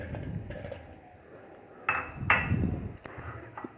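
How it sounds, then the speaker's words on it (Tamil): Apple pieces dropped into a blender jar while making apple juice, giving a few brief clinking thuds against the jar over low background noise, with two sharper knocks near the middle. "இப்போ இதில் ஆப்பிளை போட்டுக்கலாம்."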